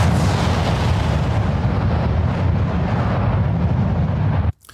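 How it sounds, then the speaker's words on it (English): A layered cinematic explosion sound effect rumbles in a dense, loud roar that holds for over four seconds, then cuts off abruptly. "Take a listen to this other explosion effect sound right here."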